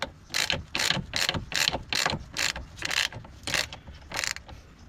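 A ratchet tightens suspension bolts on a jacked-up car arm, about ten quick bursts of clicking at a steady rhythm, close and fairly loud, with no talking.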